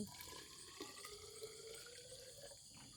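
Water poured from a tap into a cooking pot outdoors at night on a rubber plantation, a steady close splashing stream filling the pot, with no talking.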